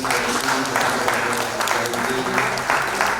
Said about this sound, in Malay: Kita berikan tepukan